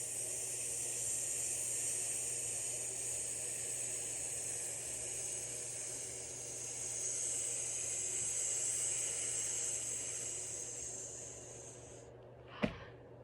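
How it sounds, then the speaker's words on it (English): A long, steady hissing exhale of a yoga snake breath, close and quiet, runs for about twelve seconds and ends with a sharp short click. "We'll go our final snake breath,"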